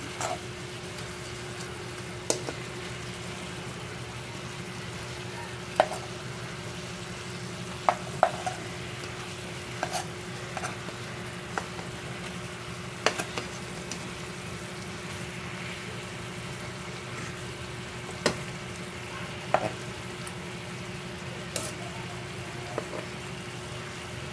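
Chicken pieces browning in a pan for adobo give off a faint, even sizzle, broken by scattered sharp clicks and taps of a utensil against the pan.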